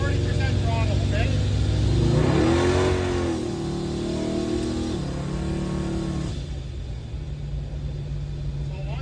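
Supercharged 700-horsepower LT1 V8 in a Pontiac Acadian accelerating at partial throttle, about 40 percent, heard from inside the car: a loud, rising engine rumble and whine that eases off and settles into a steadier drone, with a voice talking over it.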